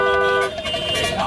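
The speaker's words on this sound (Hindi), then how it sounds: "ये जो तुम धड़ाधड़ हॉर्न बजा रहे हो" A car horn blaring in sustained, insistent bursts from a vehicle being driven hard through midday traffic; loud and close, the long first blast cutting off sharply before further honks continue.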